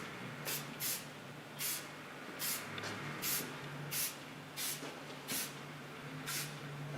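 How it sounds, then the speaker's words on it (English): Hard hairspray is sprayed onto hair in about nine short, separate bursts. Each is a sharp, quiet hiss, spaced roughly evenly over several seconds in a calm setting. "to finish up, I use a hard hairspray."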